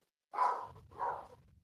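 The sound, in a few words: dog barking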